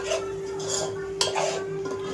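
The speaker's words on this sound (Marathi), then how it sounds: "आता हे वाटण तेलावरती छान भाजून घ्यायचं आहे." Ground onion masala being stirred and roasted in oil in a pan over medium-low heat, with steady soft scraping and a sharp clink of utensil against the pan partway through.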